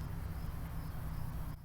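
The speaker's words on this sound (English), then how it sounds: "You hear that cricket? It's so loud." A single cricket chirping loudly and steadily in a backyard vegetable garden, a continuous close trill that runs without a break and fades slightly at the end.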